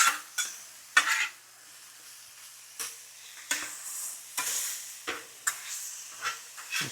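Thin-sliced steak for a Philly cheesesteak is pulled apart on a hot cooking surface: a soft sizzle runs underneath while metal utensils scrape and clack in about a dozen sharp, irregular strokes, close and clear.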